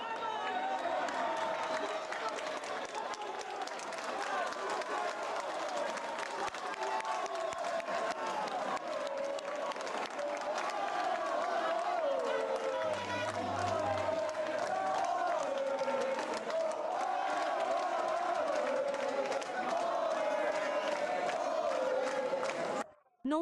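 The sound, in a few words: residents of Ceuta cheering and applauding loudly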